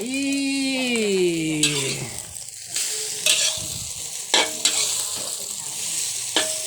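Food sizzles in a hot wok while stir-frying basil chicken, as a spatula scrapes and knocks against the wok several times with sharp metallic clanks, after a drawn-out tonal sound at the start.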